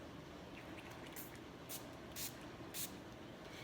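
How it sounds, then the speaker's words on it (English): Four short, sharp spray bursts in quick succession, hissing puffs from a pump bottle of trombone slide lubricant over a faint steady background noise. "That was just 4 squirts."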